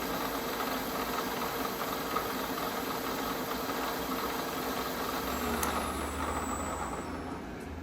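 The spindle of a used 2014 Southwestern Industries Trak DPMSX3P CNC bed mill runs forward in low gear at 500 RPM, a steady mechanical hum and whir, close and even, shifting slightly toward the end with no speech.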